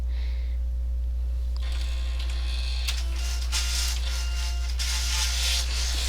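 A Silhouette cutting machine cuts a sticker sheet, starting after a quiet pause with a steady mechanical whir and buzzing passes over a constant low hum, close and moderately loud, with no talking.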